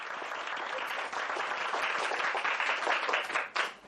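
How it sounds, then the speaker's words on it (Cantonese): A studio audience at a Hong Kong music show claps warmly to welcome a singer onto the stage. The applause is moderately loud, dense and continuous, then swells briefly before it tapers off. "大家以熱烈掌聲歡迎"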